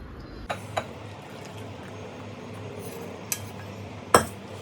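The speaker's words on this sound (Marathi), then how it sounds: "आता ही जी स्लरी आहे ती आता मी ह्या बाउलमध्ये जी ती काढून घेणार आहे" A spoon scoops custard slurry out of a pan into a bowl, giving a few sharp metallic clinks and scrapes against cookware, spaced apart in a quiet kitchen.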